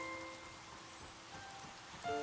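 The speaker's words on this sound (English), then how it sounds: "Unfortunately it's raining," Steady rain in the Harvestella video game, a soft continuous hiss of falling drops with faint game tones drifting over it.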